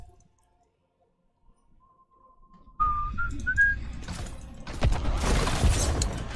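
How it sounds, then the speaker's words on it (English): A person whistles a short tune of rising notes that start faint and grow clearer, over a quiet background that gives way to busier clicking game sounds. "Oops, didn't mean to whistle."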